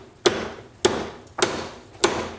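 A motocross fork inner tube from a YZ250F is yanked outward like a slide hammer to knock out the seal, giving four loud, evenly spaced metallic knocks, each ringing briefly, close up with no talk.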